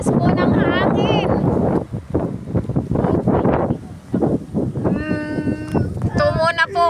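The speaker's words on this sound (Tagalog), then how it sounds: "Malakas po ng hangin." A strong cold wind gusts across open fields, roaring against the microphone in loud bursts while people talk and exclaim through it.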